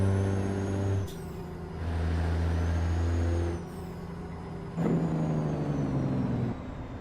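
A Caterpillar diesel engine in a truck in American Truck Simulator drones steadily with tonal harmonics, its pitch stepping up and down through gear changes, with a sharp hiss partway through.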